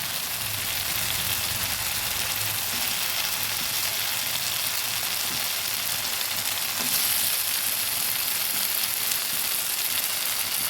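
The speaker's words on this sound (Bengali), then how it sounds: "এবার আমি দিয়ে দেবো ভাজা আলুগুলো" Spice masala with tomato sizzles steadily in a pan for a katla fish-head murighanto as fried potatoes go in, a close, constant hiss of frying with faint stirring scrapes underneath.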